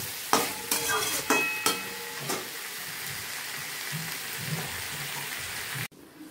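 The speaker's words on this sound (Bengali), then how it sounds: "এবার ভালো করে" Cauliflower, potato and soybean curry stir-fries in a pan: a busy crackling sizzle with a quick run of metal spoon scrapes and clanks early on, then a steadier frying hiss close by.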